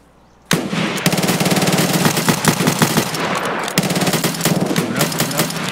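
After a brief quiet moment, loud, rapid machine-gun fire in a video game erupts from an enemy behind the players, hammering steadily for several seconds with a short pause and then resuming close and sharp.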